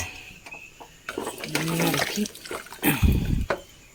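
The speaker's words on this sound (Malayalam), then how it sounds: "വെള്ളം ഒഴിച്ച് നോക്കാം ചൂടുവെള്ളമാണ്" Hot water splashes and gurgles into a pressure cooker on a home kitchen stove in a few short bursts, the loudest near the end, with a voice talking over it.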